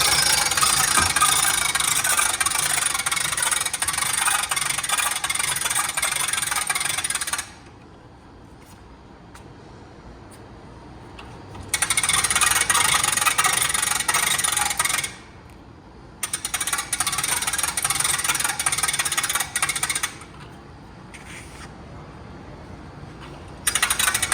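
A hand crank raises the roof of a used 2016 Coachmen Clipper 806LS popup camper, giving loud, close grinding bursts separated by short pauses.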